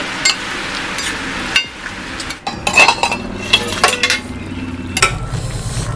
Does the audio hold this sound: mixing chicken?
yes